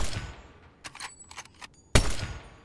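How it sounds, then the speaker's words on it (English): A quick cluster of sharp video-game gunshots, followed by a louder, closer blast that trails off into echoing rumble, with no talking. "Gunfire behind me now."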